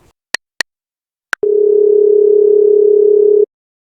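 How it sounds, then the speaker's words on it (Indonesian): A telephone handset gives a few sharp keypad clicks, then a steady dial tone sounds loud and close for about two seconds before cutting off. No one speaks. "ada yang nggak beres, aku harus telepon Kak Joko"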